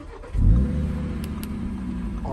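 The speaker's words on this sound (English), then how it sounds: "I'm gonna start this engine and you guys can hear it from here." An Audi RSQ3 Vorsprung engine cranks and fires up, with a loud surge at startup that settles into a steady, rumbling idle heard close by.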